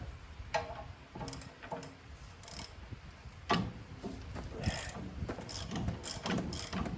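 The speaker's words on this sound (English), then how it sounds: "So that moved enough, I think, to use a ratchet" Ratchet clicking while turning a bolt during tooth replacement on a Bobcat SG60 stump grinder, in repeated short bursts of close ticking over a busy metallic workshop background.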